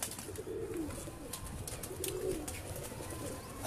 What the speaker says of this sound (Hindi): इंतहाई लाजवाब किस्म के ब्रीडर कबूतर इनके पास मौजूद हैं